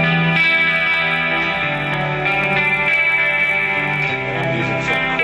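An electric guitar plays through a Digitech GNX1 on its Clean Tube amp model, with an American 212 cab modeled on a '65 Fender Twin Reverb with Jensen speakers, adding chorus and reverb delay. The notes ring out loud and continuous, with no talking.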